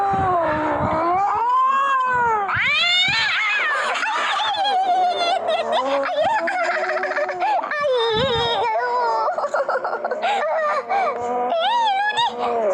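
A frightened cat yowls and caterwauls in a long run of drawn-out, wavering wails rising and falling in pitch, loud and close, with brief pauses between cries.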